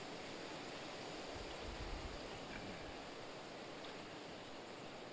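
A jungle stream where crabs are caught, its water rushing in a steady, dense wash with no pauses, heard alone and fairly close.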